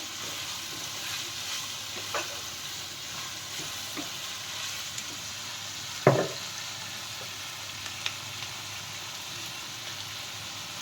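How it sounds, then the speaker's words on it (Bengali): Penne pasta sautéed with vegetables in a pan gives a soft, continuous sizzle, with faint stirring scrapes and one sharp clink of a utensil partway through. "সতে করা হচ্ছে"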